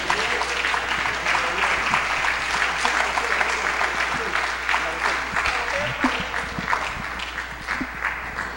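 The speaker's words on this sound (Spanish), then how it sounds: "Un aplauso a Cristo en esta linda mañana." A congregation at a prophetic church conference applauds in a dense, sustained wash of clapping with crowd noise and some voices mixed in, holding steady and easing slightly near the end.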